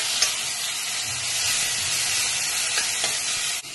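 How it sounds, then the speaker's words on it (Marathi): Onion and coconut paste sautéed in a pan for akkha masoor: a constant hissing sizzle with occasional spoon stirring taps, close and moderately loud, ending in a sharp clink. "मी आता हे कांदा खोबऱ्याचं वाटण घालते आणि तेही छान परतून घेते"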